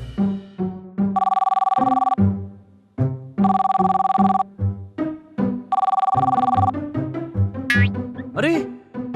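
A cartoon telephone rings in three repeated electronic bursts while animated characters chatter between and over the rings, with a springy boing-like effect near the end.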